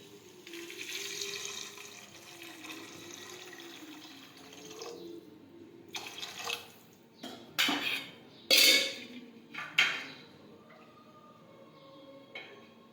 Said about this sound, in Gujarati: પાણી નાખીશું